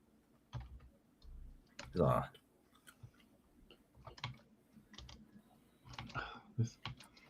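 A computer keyboard is typed on in short, irregular bursts of close, light clicks, heard between stretches of people talking.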